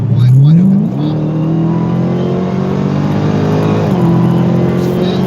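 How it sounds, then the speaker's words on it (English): A Dodge Hellcat with its airbox pulls hard at wide open throttle in cold weather, the engine note climbing steadily with sharp shifts as pitch drops and rises again, loud and continuous from inside the car. "Data logging 3, 2, 1, wide open throttle."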